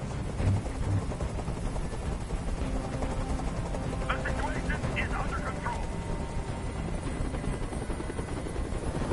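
A helicopter hovering in the video game Detroit: Become Human, its steady rotor roar filling the scene continuously and loudly, while a voice speaks briefly over the din.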